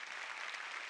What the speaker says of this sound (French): Applaudissez pour les enfants.